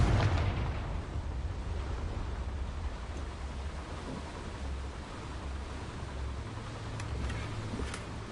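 A Confringo blasting spell explodes in Hogwarts Legacy with a sudden loud burst, then a long rumbling roar that slowly fades beneath steady background noise, with no voices.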